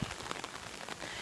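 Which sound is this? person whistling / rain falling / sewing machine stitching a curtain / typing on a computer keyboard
rain falling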